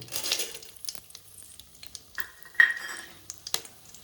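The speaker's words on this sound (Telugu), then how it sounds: "ఈ విధంగా కొద్దిగా కలర్ మారేదాకా ఫ్రై చేసుకుంటే సరిపోతుంది" Dry red chillies, coriander seeds and cumin fry and get stirred in a pan, with faint sizzling, light scraping of a spoon and occasional small metallic taps.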